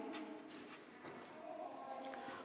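A marker squeaks and scratches across a board during a chemistry lesson, a brief, close run of quiet strokes with no voice over it.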